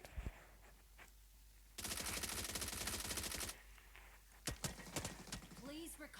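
Rapid video game gunfire in a two-versus-four match, a dense burst of automatic shots lasting a couple of seconds with a few single shots afterward, mixed with talk and game noise.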